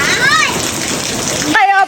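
Steady rain falls with a broad, constant hiss of drops on surfaces, fairly loud and close, and a voice breaks in near the end.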